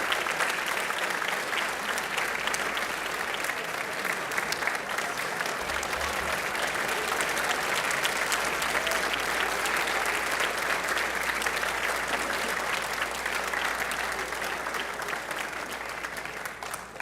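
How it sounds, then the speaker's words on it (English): A crowd at a Holocaust awareness event gives Holocaust survivor Zoltan Blau a rousing, sustained round of applause, thick and steady throughout, tapering only slightly at the very end. "Let's join together in a rousing round of applause for Zoltan Blau"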